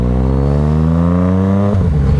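A Yamaha MT-09 motorcycle engine pulls steadily under the rider, a loud, close, rising growl with a smooth climbing pitch, then a brief dip as if shifting before the note continues.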